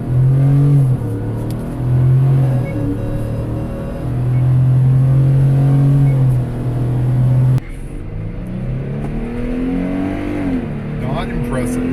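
A Ford F-150 pickup in sport mode with the rear diff lock engaged launches from 2,000 rpm on a 0-60 run, its engine droning loud and steady, rising in pitch through the gears with a shift midway, under occasional talk.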